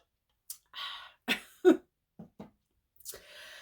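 A man coughs and clears his throat in a quiet room: several separate short bursts, close and fairly loud, with breathy pauses between them and no talk.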